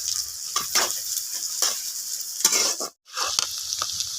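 Large-cut onions, about 250 grams, frying in hot oil for mutton kosa, a steady sizzle broken by several scraping stirs and one brief pause.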